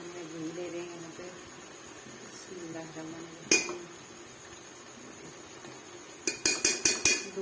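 A metal spoon scooping ghee and tapping against a pan and container, with a sharp clink midway and a rapid run of five or six knocks near the end, close and distinct over quiet kitchen background.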